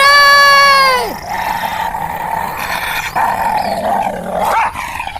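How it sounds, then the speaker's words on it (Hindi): A menacing, possessed-sounding dog in a horror story gives a drawn-out snarling growl. A strained, whining rise comes first, then a rough, continuous rumbling snarl that swells and dips throughout, loud and close. "ये तो कोई कुत्ता लगता है"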